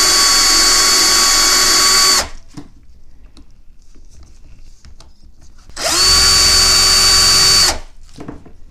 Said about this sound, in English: I'm just going to run a sanding sponge over it, because we need to roughen this up